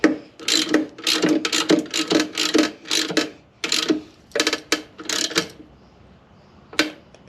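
A ratchet wrench tightens bolts on a Yamaha VF200LA outboard motor, giving close, loud bursts of rapid clicking in repeated strokes with short pauses between them, and no voices.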